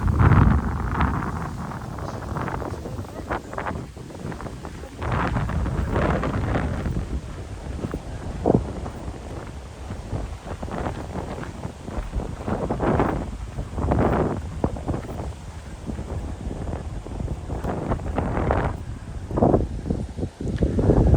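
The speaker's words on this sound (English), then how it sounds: "So let's face into the wind." Steady wind gusting across an open hillside on the Longshaw Estate in the Peak District, buffeting close against the microphone in rising and falling rumbling surges throughout, with no voices.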